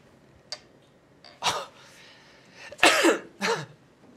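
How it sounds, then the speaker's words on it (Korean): During a Go league match broadcast, someone sneezes in a few quick breathy bursts, quiet and somewhat distant against the low room background. "재채기가 나오네."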